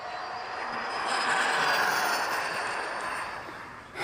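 A Team Corally Python 6S RC car with a Speedtekrc 35t spool makes a loud, steady, jet-like whooshing whine. It swells over a few seconds, then fades as it passes, with no talking.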